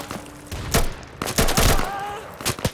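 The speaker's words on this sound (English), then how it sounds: "Some shots being exchanged" Gunfire is exchanged in a competitive online shooter match on the Heights map, sharp bursts and single shots cracking in irregular clusters, loud and close.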